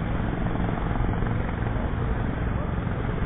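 Steady, dense rotor and engine roar of a helicopter, loud and continuous throughout, with no pauses or changes.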